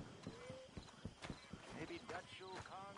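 Horse hooves clip-clopping in Red Dead Redemption 2, a quick run of close hoofbeats with a brief whinny, while voices talk over them throughout.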